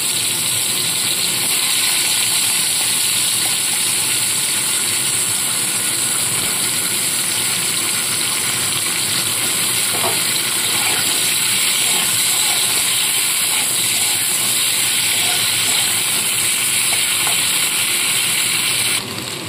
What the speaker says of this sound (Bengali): আলুগুলোকে এভাবে ভেজে নেব।